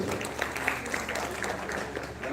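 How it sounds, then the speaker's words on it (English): Audience applause at a national seminar for Coal India, a steady wash of clapping from a hall crowd with a few sharper claps standing out, moderately quiet and continuous throughout. "Have a big round of applause for Sudeep Bhattacharya, sir."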